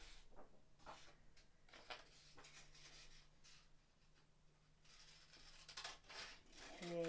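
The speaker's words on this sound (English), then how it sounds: "I'm going to get my scissors. I'm going to cut out this sentence." Faint, crisp snipping and paper rustling come in irregular bursts up close, over a low steady hum.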